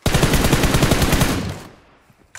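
Rapid automatic gunfire in the mobile game PUBG Mobile rattles off in a loud, close burst of evenly spaced shots lasting over a second, then fades out as an echoing tail.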